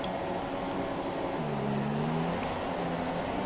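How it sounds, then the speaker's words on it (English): Race car wheels spinning at a standing start in a racing video game at the Hungary circuit, a steady high engine roar with a rising and bending tone, loud and continuous without talk. "And we got so much wheel spin"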